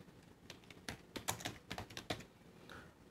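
Computer keyboard keys pressed in a short burst of close, crisp clicks with uneven rhythm, one person typing a project name at a desk, quiet and alone without talk.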